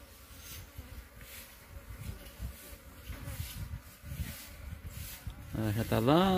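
Bees buzz among the flowers of a palm tree at a zoo in Aracaju, a steady, close insect drone under soft outdoor background noise, growing louder toward the end.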